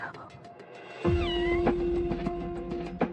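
Cats meow in a cat cafe: a quiet, high call opens, then a loud, drawn-out meow with rising and falling pitch, followed by shorter meows close by.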